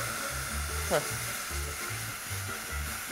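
A pot of boiled water for pasta hisses and sizzles on the stove, a steady, close, broadband crackle with soft low bubbling thumps underneath.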